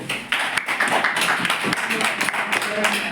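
An audience at a Bangla-speaking business meeting claps for new members, a steady ragged patter of many hands, loud and close, with speech mixed in.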